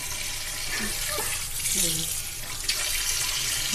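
Tap water running steadily into a sink while pet turtles are bathed at home, a continuous close splashing flow with faint background noise.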